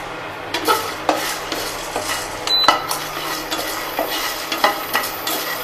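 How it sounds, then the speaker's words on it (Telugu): Cardamom, cinnamon and cloves fry in a pan, stirred with a metal spoon that scrapes and taps rhythmically against the pan over a soft sizzle, with one sharp clink midway. "ఇక ఇందులోనే యాలకులు, దాల్చిన చెక్క, లవంగాలు ఈ మూడు కూడా వేసుకొని బాగా ఫ్రై చేద్దాం"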